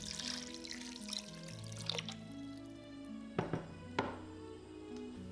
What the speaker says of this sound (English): Add 3 cups of water, or just barely to cover the chicken.